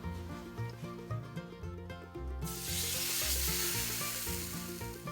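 Jam and cheese bread sandwich dipped in batter sizzles in hot ghee in a pan, starting softly and rising to a steady, louder frying hiss near the pan, with music playing throughout.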